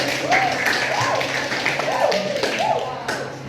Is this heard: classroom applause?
yes